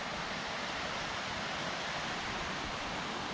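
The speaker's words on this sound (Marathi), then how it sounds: "नदीचा आवाज बघायचा असेल तुम्हाला इकडे." A river flows steadily nearby in rainy weather, a constant broadband rush of water without pause, moderately faint and with no voices.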